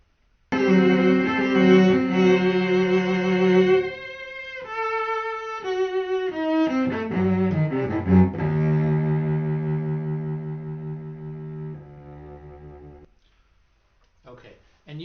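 A cello ensemble performing a chamber piece without a click track, sustained bowed notes and shifting chords after a brief silent start, ending on a held chord that fades into quiet.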